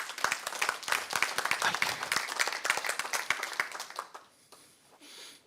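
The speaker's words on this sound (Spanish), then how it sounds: "Al contar 3, vamos a aplaudir todos" A church congregation claps together on cue, a loud, dense burst of many hands clapping for about four seconds before it fades to scattered claps and quiet room noise.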